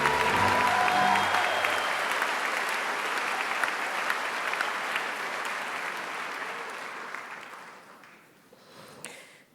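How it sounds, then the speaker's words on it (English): An audience at a university sociology department commencement ceremony claps for graduate degree recipients, a dense, steady wash of applause that gradually thins and fades away. "Let's have a final round of applause for our MA recipients."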